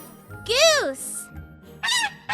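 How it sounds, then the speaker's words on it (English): A single goose honk rings out near and fairly loud as a bright, rising-then-falling call, followed by a shorter second honk; faint background sounds sit underneath. "Goose."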